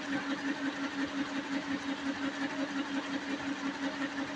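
A mixer grinder whirs steadily, grinding dry chilies, green chilies, ginger and onion, with a constant motor hum and faint rhythmic pulsing, close and loud with no talking.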